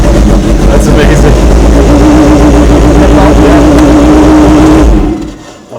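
A Kimera Evo37 rally car engine runs loud and close, a steady deep roar with revving swells for about five seconds before cutting off abruptly; voices talk over it.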